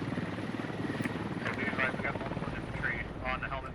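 Military helicopter loaded with infantry flying overhead, its steady rotor thump and engine drone continuous throughout at moderate loudness, with a voice talking over it.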